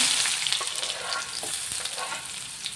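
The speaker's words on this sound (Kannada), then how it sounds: "ಎಣ್ಣೆ ಬಿಸಿಯಾಗಿದೆ ನಾನು ಹಸಿಮೆಣಸಿನಕಾಯಿ ಮತ್ತು ಈರುಳ್ಳಿ ಹಾಕ್ತಾಯಿದ್ದೀನಿ" Green chilies and onion frying in hot oil, a loud, close, steady sizzle and crackle with faint stirring, no voices.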